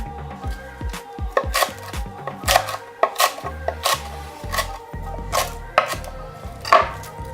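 Lettuce is chopped on a cutting board for a vegan Buddha bowl, a quick run of crisp knife strikes in an uneven rhythm, close and clear with no speech.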